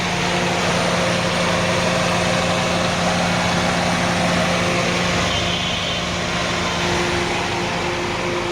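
A Toyota Succeed car engine runs at a steady idle, a constant close-up rumble with a faint hum and no change in pace.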